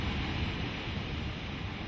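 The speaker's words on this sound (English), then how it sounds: "By early summer, the sound of water thunders throughout the park." Yosemite waterfalls in early summer high flow thunder as a steady, dense roar of rushing water, continuous and unbroken.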